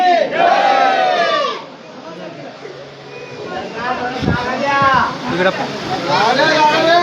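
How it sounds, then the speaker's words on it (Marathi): A large crowd of pilgrims at Saptashrungi temple shouts and chants loudly together, a dense surge of voices that dips briefly and swells again with overlapping cries. "इकडं पूर्ण गर्दी आहे."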